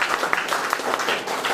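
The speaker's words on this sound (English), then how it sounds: "Everyone please clap for Mr. Lichin." Short stretch of applause from an audience at a public speaking competition, for an army soldier named Mr. Lichin; a close, moderately loud patter of clapping hands.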